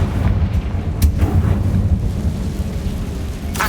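Confringo blasting spell explosion in the video game Hogwarts Legacy: a deep, rumbling boom with heavy low-end roll, sharp cracks near the start and end, and a thundery tail that carries through.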